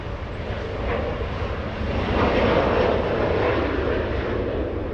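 A Japan Airlines jet at Los Angeles International Airport makes a steady, broad engine roar that swells slightly midway, heard at moderate distance with no talking.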